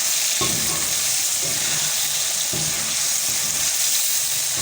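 Spicy chicken karahi with lemon being stirred in a hot pan, a loud continuous sizzle with several scraping spoon strokes at regular intervals, close and with no talk.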